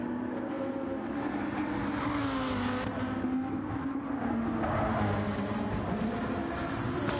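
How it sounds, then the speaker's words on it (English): GT2 race car engines in a racing video game at Trial Mountain, a steady droning roar with shifting pitch that runs throughout, rising and falling as the cars accelerate and slide. "You can hear his car."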